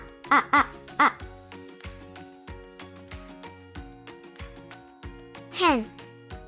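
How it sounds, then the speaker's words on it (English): A duck gives three quick, loud quacks in a row, then a single longer quack a few seconds later, over a steady, cheerful musical backing. "Duck."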